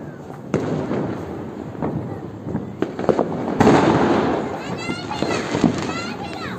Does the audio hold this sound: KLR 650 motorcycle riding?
no